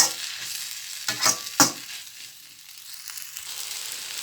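Shrimp and tofu stir-fry in an oiled pan for pad thai: close, loud sizzling with sharp scraping stir strokes that bunch up early, then a steadier fry.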